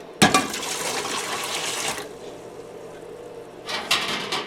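Water gushes into a canner pot in two bursts, a steady splashing pour for about two seconds, a pause, then a second splash of pouring.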